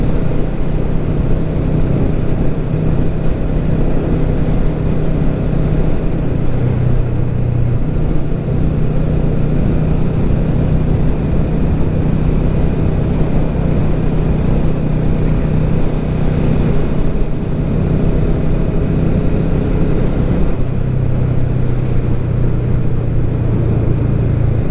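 Continuous motorcycle engine drone while riding in Portugal, loud and steady with wind rush, the pitch shifting a few times as the throttle changes.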